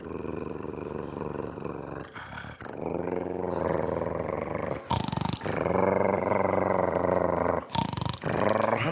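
A man imitates a dog growling with a low, rumbling, sustained snarl. The growl runs in long stretches broken by brief pauses and is fairly close.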